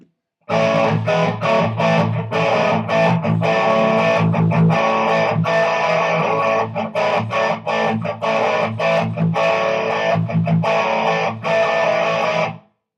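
A distorted electric guitar riff on a Les Paul R8 Goldtop plays continuously for about twelve seconds, loud and close, with choppy rhythmic chords and bassy overdrive.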